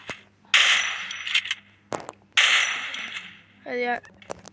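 Two bursts of loud video game shotgun fire from an M590 with short echoing tails, separated by a sharp click, followed by a rising electronic chime.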